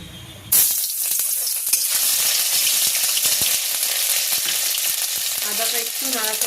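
Ginger drops into hot oil in a wok, oil already used for frying potatoes. Quiet at first, then a sudden loud burst of sizzling that keeps crackling steadily, close up.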